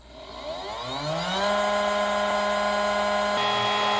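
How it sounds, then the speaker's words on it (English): A homemade CNC spindle motor spinning up to mill a printed circuit board, its whine rising steadily in pitch over about a second and a half, then holding a loud, constant tone with a brief shift near the end, no voices. "So let's start the spindle and let's mill."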